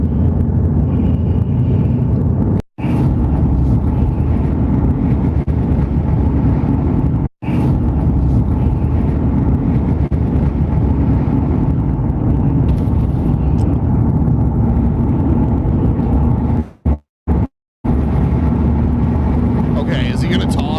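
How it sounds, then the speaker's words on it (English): Steady engine and road rumble from inside a moving car, a continuous low drone with a few brief dropouts, and no talking over it. "Sounds like he's in a car."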